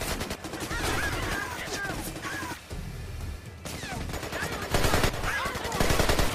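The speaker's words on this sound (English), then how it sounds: "So using my scoped AK-47" Scoped AK-47 fire in the video game Rainbow Six: Iraq crackles in sharp, rapid bursts with crashing impacts, loud and close, broken by short gaps.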